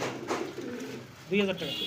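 High flyer pigeons coo softly in a short, low, murmuring stretch, with a clearer coo near the end, under faint background voices.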